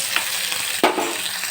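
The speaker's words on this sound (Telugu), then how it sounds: "ఇప్పుడైతే ఇదే ప్యాన్లో కొద్దిగా ఆయిల్ అయితే వేసుకొని మొత్తం ఈ టమోటో ఆనియన్ అన్నీ మగ్గించుకోవాలి" Tomato and onion frying in a little oil in a pan, with a steady broadband sizzle, a couple of soft stirring scrapes and one louder clatter near the end.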